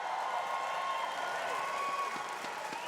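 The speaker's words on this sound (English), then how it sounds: "Crowd, make some noise!" A crowd applauds and cheers to welcome a special guest at a live event, producing a dense, steady wash of clapping and voices that holds evenly throughout.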